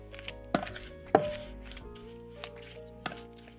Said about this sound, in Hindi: अब हम इन सबको अच्छे तरीके से मिक्स करेंगे।